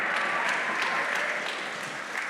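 An audience at a Comic Con cast panel for X-Men '97 in Brooklyn claps steadily, a moderately loud, even wash of applause with a few sharper claps standing out, no talking over it.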